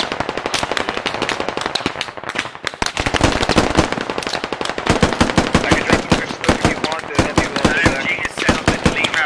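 Dense gunfire in the tactical shooter Squad, rapid automatic bursts and sharp single shots cracking nearly nonstop, loud and close, with voices talking underneath.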